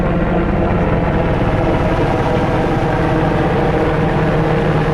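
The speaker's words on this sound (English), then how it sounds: "There's a helicopter going overhead." A steady, loud rotor-and-engine drone fills the whole stretch, a helicopter passing overhead a rooftop without letting up.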